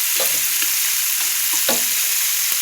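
Elephant foot yam and shrimp frying gently over low heat, giving a soft, steady hiss broken by a few light scrapes of a spatula against the pan, close up.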